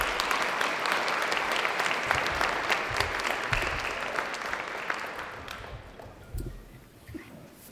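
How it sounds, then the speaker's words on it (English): A school gym crowd at a spring National Signing Day ceremony applauds parents and guardians, a dense, steady round of clapping with a few cheers that fades and thins out toward the end. "So please give these parents and guardians a round of applause."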